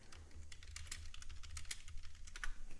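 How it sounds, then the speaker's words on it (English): Typing on a computer keyboard, a quick irregular run of light key clicks, close and fairly quiet, with a low hum underneath and no speech. "you hear typing because I am making alerts in the chat room"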